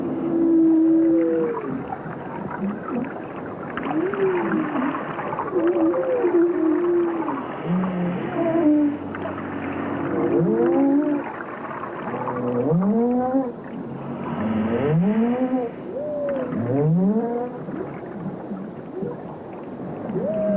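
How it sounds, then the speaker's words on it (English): Humpback whale song played back underwater through a small speaker in the Pacific: a series of rising and falling moaning calls and upsweeps, fairly loud and continuous over a steady watery background hiss. "the whales heard a reproduction of their own song"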